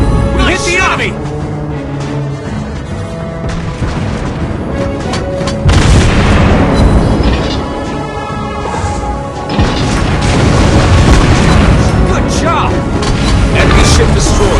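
Ship explosions and naval gunfire in the video game World of Warships, with loud booming blasts and crashing impacts in dense succession, mixed with in-game voice announcements.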